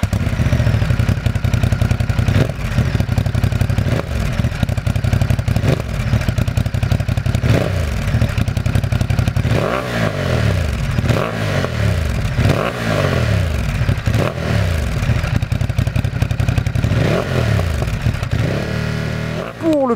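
A 2021 Ducati Monster motorcycle fitted with a Termignoni half-line exhaust, its engine loud and close, burbling steadily and then revving up and down repeatedly.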